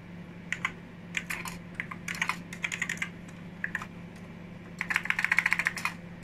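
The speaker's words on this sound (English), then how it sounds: "A bit awkward typing with one hand" One-handed typing on a Sun 2/120 workstation keyboard, irregular bursts of crisp key clicks with short pauses, ending in a quicker run of keystrokes, close and without talk over a faint steady hum.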